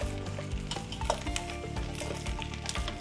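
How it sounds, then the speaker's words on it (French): Vegetables for a cumin detox soup stirred nonstop in a pot, a soft sizzle under repeated spoon scrapes and light clinks against the pot, fairly quiet and close, no speech. "Je vais maintenant les mélanger sans m'arrêter pendant 5 minutes."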